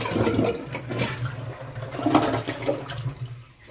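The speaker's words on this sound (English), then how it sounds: "Now we'll try the other side for the other flush" A toilet flushes nearby, rushing water swirling and draining in a few surges before tapering off.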